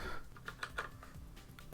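Quick, soft keystrokes on a computer keyboard while editing in Neovim, a short burst of close, light clicks with no talking over them.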